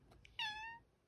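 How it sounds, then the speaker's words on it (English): A house cat gives one short, clear, high meow close by in a quiet room, preceded by a couple of faint chirps. "Why, hello, kitty."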